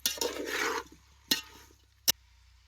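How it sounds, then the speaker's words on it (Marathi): Chopped tomatoes stirred in hot oil for chicken pulao, heard as a brief scraping stir at the start followed by two sharp spoon knocks against the pan, close and otherwise quiet. "आता हे तेलात सगळं चांगलं हलवून घ्यायचं"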